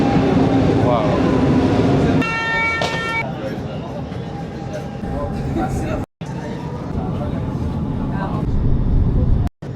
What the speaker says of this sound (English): At least we're in the right metro train.